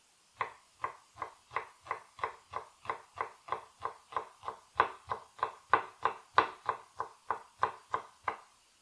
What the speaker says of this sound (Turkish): O yüzden soğanlarımızı eşit kalınlıkta kesiyoruz.